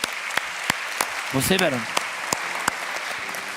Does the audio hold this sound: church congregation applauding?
yes